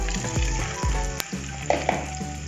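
Shrimp sautéing in a pan with golden-browned onion and garlic for ginataang hipon, a steady close sizzle broken by scraping stirs and a few sharp utensil knocks against the pan, with no talking.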